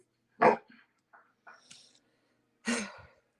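A dog gives a few short barks, close and fairly loud, spaced across the moment with soft breathy sounds and quiet gaps between them.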